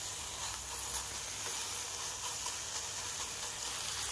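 Coconut modak mixture cooks in a pan on a gas flame, giving a soft, steady sizzle and hiss that runs evenly throughout, faint and without any talking.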